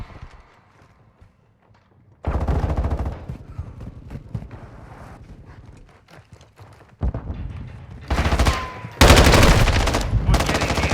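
Rapid machine-gun and rifle fire from a Call of Duty: Vanguard match, with a quieter opening, then loud sustained bursts, a lull, and heavy close gunfire returning near the end.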